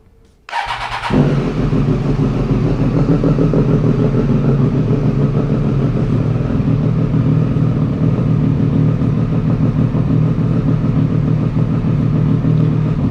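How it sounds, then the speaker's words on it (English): A Triumph Street Triple 765R fitted with an SC Project exhaust barks to life, then settles into a loud, steady, close idle that runs on unchanged for over ten seconds. "So I'm just going to turn it on, do an idle test"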